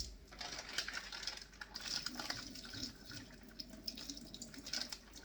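Tap water runs and splashes faintly over green beans being rinsed in a kitchen sink, a soft continuous spatter with small drips, quiet and close, no talk.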